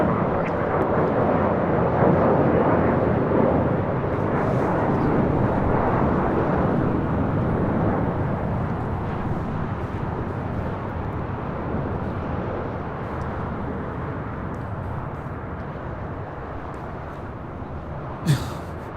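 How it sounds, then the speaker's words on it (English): An Emirates Airbus A380 on its takeoff roll at LAX gives a loud, steady, broadband jet roar that holds for the whole stretch and eases off slightly toward the end, with a brief sharp click near the close. "now we have the Emirates A380 flight 216 getting ready to take off"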